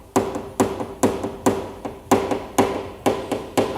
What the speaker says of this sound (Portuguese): se eu pego um martelo aqui e começo já